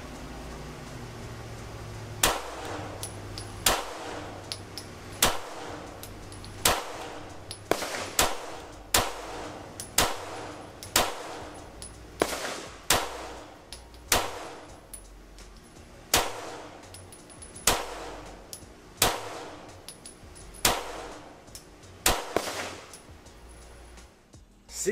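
A Bear Creek Arsenal Grizzly 101 9mm handgun fires a long string of single shots at uneven intervals, each a sharp loud crack with a ringing tail, heard outdoors with no talk.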